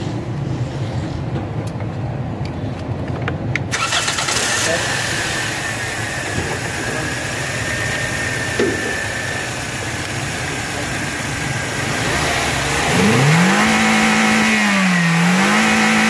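The 2NZ engine of a 2007 Toyota Probox cranks and catches, then settles into a steady close idle with a brief rise in revs near the end, while someone speaks nearby.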